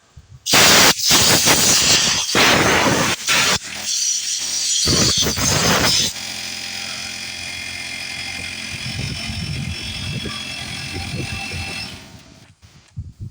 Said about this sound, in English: I'm just going to take my compressed air, open them up a little bit